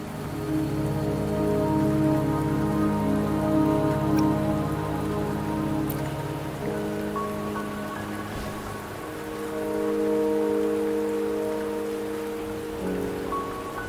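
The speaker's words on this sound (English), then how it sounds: "Don't worry, the rain won't last much longer." Steady rain falls on surfaces in the Wuthering Waves video game on the way to a mountain, a constant hiss blended with sustained soft musical tones throughout.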